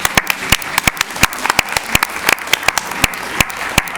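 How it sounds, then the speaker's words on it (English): A school board meeting audience applauds three students, scattered, uneven clapping from a modest crowd with sharp individual claps standing out, close and steady for several seconds. "Let's give all three of these students a round of applause,"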